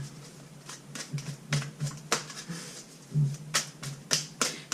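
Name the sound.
shuffling tarot cards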